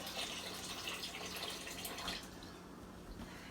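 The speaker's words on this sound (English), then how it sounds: "now we're going to just add a little bit of water. And this is Berkey water." Filtered Berkey water poured into a bowl for sourdough bread dough, a steady close splashing trickle that thins out partway through, with no talking.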